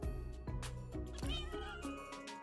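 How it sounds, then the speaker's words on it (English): Ginger cat in the Minecraft video game giving several clear meows in a row, evenly spaced and close, with no talking over them. "A little ginger cat."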